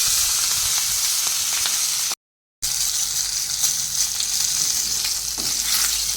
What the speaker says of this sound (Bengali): হয়ে গেছে শিঙি মাছটা ভাজা।